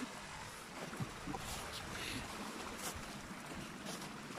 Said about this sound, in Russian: Вода прет, будь здоров,